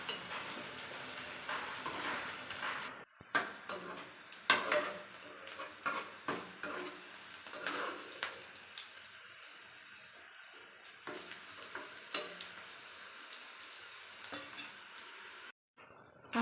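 Curry leaves stirred in a frying pan of oil for cauliflower curry, giving a steady sizzle broken by repeated scraping and clinking of the spoon against the pan.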